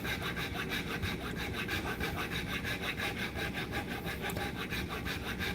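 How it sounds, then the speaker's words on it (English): A Dremel sanding bit grinds against the wood of a cheap guitar, a continuous rasping whir with a fast, even pulse, loud and close, with no talking. "I can start using the bigger sanding bits on the Dremel."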